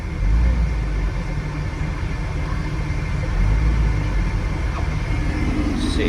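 A 2004 Jeep Wrangler two-door with a 5-speed and 42K miles idles with a steady low engine rumble while it is shifted into 4-low, and a voice speaks briefly near the start.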